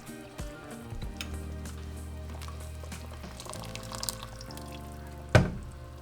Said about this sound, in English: I'm just going to add a little bit of water to my blender cup